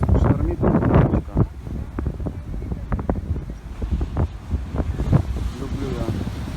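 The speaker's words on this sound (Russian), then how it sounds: "Такие волны ходят." Stormy sea waves surge around the New Brighton pier in Christchurch, New Zealand, with wind buffeting the microphone and rain in the air; a continuous rough roar with irregular swells, a voice briefly heard over it.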